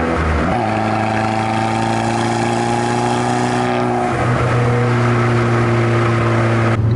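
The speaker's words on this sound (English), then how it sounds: "I love the way that this exhaust sounds again." A 2013 Fiat 500 Abarth's four-cylinder engine revs loudly, the exhaust note climbing, dropping briefly, then holding a raspy drone close by.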